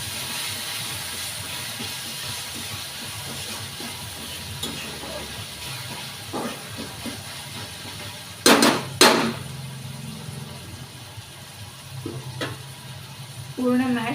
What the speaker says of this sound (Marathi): टोमॅटो सुद्धा असा एकजीव करून घ्यायचा.